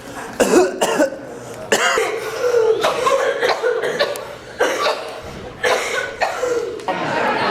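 Repeated bursts of harsh coughing, several short fits close by, separated by brief pauses with some chuckling mixed in.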